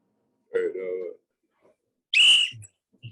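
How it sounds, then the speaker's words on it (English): A whistle blown by a man to start a basketball jump ball segment, two short close blasts, the first lower and wavering, the second shrill and piercing, with brief vocal noises after. "let me get my whistle"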